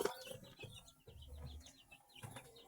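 Newly hatched chicks in an incubator give a string of high, thin peeps, faint and repeated over a low background hum.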